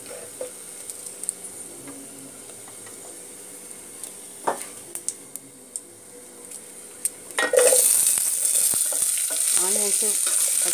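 Onions and green chilies go into a hot pan for tomato rice, setting off a sudden loud sizzle after a quiet stretch of soft frying and a few sharp clinks of utensils against the pan.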